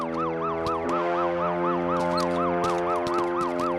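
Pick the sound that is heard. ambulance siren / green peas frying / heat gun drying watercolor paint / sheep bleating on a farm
ambulance siren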